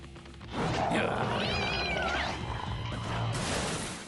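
A dubbed cartoon cat lets out a loud, wavering meow in the middle of the clip, under a busy soundtrack with background noise.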